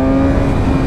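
A BMW motorcycle accelerating hard on the MotorPark Romania race track, a loud, steady engine drone with a strong low tone held close for under a second, with no voices.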